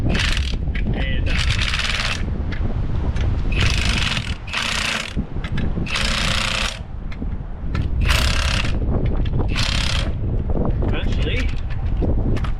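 A drum puller is tightened by hand on the brake drum of a 1940 Mercury, heard as close, loud repeated ratcheting and metallic clicking bursts, with someone talking.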